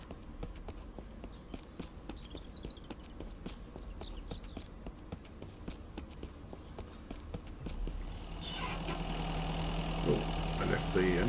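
A car engine idles in the Mist Survival video game, joined after about eight seconds by a louder, steadier engine drone, with rhythmic footstep-like taps running through the earlier part.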